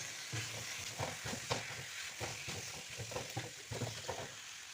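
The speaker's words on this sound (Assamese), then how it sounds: "লৰাই থাকিব লাগিব" Jackfruit curry sizzles in a pan while a spoon stirs it in irregular scraping strokes. The frying hiss runs underneath, and the stirring is close but fairly quiet, with no talking.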